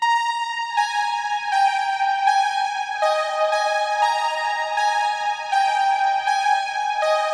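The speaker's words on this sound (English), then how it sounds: "I've added this synth lead that sounds like this." A bright synth lead from the Baby Audio BA1 synth on the Synth Time Cop 1983 preset plays a sustained 80s synthpop melody, with steady held notes that change pitch every second or so, loud and alone with no talk.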